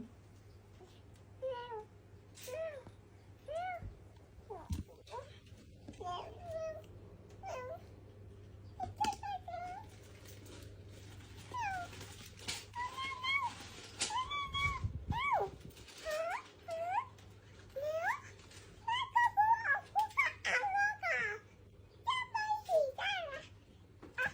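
A child imitates a cat, giving a long series of high, wavering meows one after another, with a steady low hum and faint talk in the background.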